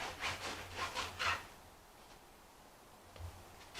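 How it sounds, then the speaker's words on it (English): A serrated knife saws through a crusty French baguette loaf, cut diagonally into thick slices for bruschetta, giving several close, rough rasping strokes in a quick rhythm, then a pause and one more short stroke. "we're going to cut up this baguette"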